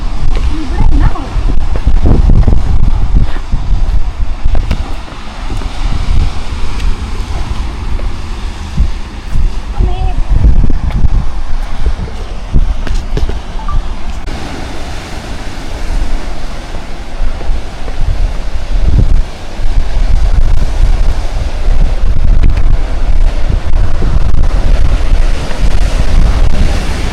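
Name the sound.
wind blowing at seaside cliff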